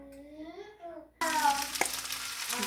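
Oil and spices hitting a hot pan for a minced meat and mushroom sauce, a sudden sizzle that then holds steady and bright, following a moment of speech.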